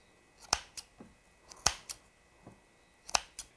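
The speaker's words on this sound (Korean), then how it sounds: "불편하니까 한 번씩 가위로 잘라주세요" Kitchen scissors snip through soaked, squeezed dried pollock, giving sharp crisp cuts at an uneven pace, about six clear snips with a few softer ones between, close and clean with no talk.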